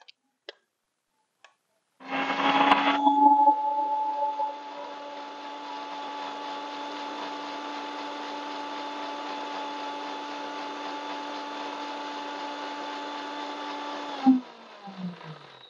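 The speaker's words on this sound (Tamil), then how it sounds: "இப்ப இதை நான் மிக்சியில போட்டு அரைச்சு பால் எடுக்கிறேன்." After a few faint clicks, a mixer grinder starts on soaked ragi (finger millet) with a loud burst, then settles into a steady, close, high whining drone for about twelve seconds before cutting off with a brief rattle.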